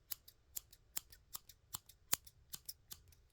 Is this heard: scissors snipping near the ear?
yes